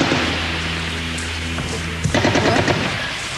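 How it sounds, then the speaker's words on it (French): A burst of gunfire rattles at the Israeli enclave of Netzarim, several rapid shots cracking in quick succession over a steady background hum, with no speech. "des tirs."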